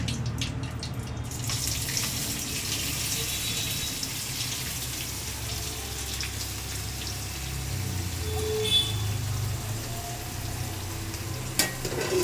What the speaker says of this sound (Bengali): এবার আমি এই পর্যায়ে আলুগুলো দিয়ে দিচ্ছি